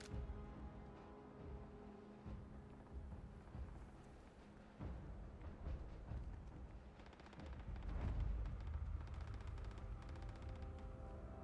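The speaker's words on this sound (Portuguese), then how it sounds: "Eu estou a ouvir tiros. Não sei se isso é bom ou se é mau." Distant gunfire rumbles in the Starfield video game, a quiet mix of low booms and crackling shots rolling on continuously beneath a faint ambient hum, growing somewhat heavier toward the end.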